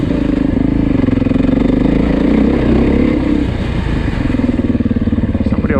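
A 2024 Beta 430 Race Edition dirt bike engine idles nearby with a loud, steady, slightly lumpy thrum that dips briefly before settling back.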